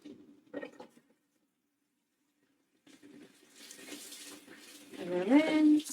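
Water runs from a tap into a sink for rinsing, building from a quiet trickle to a louder steady flow over the last seconds, with faint voice sounds early on.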